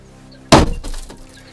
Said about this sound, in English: aiming the pointed steel tip of the hammer at the glass, strike the window in one corner